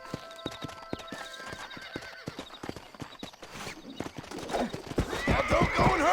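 Horse hooves clip-clop and a horse neighs in the Red Dead Redemption video game, with steady hoofbeats giving way to a louder, agitated whinny near the end.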